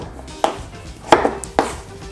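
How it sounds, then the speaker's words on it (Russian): A knife chops potatoes into large chunks on a cutting board for beef goulash, with three sharp, separate knocks spaced roughly half a second apart, close and fairly loud, with no voices. "мы режем на крупные куски, как мясо и как и все остальные овощи."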